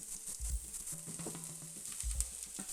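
Chopped onion and carrot fry in a pan, giving a steady soft sizzle with occasional stirring scrapes and low clatters, close and fairly quiet, with no talk.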